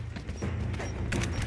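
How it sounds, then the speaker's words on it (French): A grenade blast in the video game Rise of the Tomb Raider, a deep rumbling boom with crackling debris layered over continuous low battle noise and scattered gunfire, brief and heavy. "Attention, grenade!"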